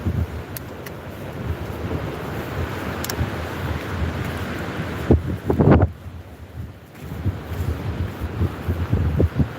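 Wind buffeting an outdoor microphone beside a noisy sea at Withernsea, with a steady broadband rush and surf-like swells, plus a few louder gusts and thumps partway through.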